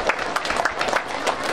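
Alumni gathered at a high school reunion event applaud together, a dense, steady patter of many hands clapping at moderate distance, brief and continuous.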